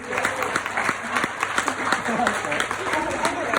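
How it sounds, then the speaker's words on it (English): An audience applauding at a speech event, a continuous patter of many hands clapping at moderate level, with voices murmuring underneath. "So could you please give a clap to all of you, all of you."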